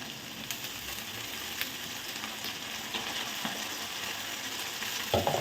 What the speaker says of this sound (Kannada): ಟೊಮ್ಯಾಟೊನ ಹಾಕ್ತೀನಿ